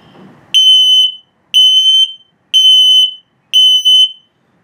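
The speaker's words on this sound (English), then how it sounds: "LP test good, carbon monoxide coming up, and then low battery alert." An RV's LP and carbon monoxide detector sounds its test alarm: four loud, evenly spaced high-pitched electronic beeps, each about half a second long, on an otherwise quiet background.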